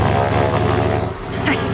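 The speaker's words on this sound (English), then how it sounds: "There goes our plane." A float plane departing in the Yukon, its engine drone and propeller hum steady and moderately loud, with faint voices in the background.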